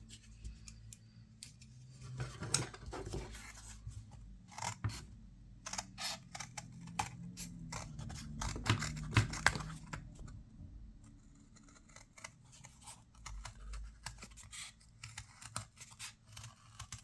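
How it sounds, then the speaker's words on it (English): Scissors snip out a fabric circle for a drum-style pincushion, with irregular close crisp cuts and rustles spread across the stretch, no talking. "So let's cut out another one."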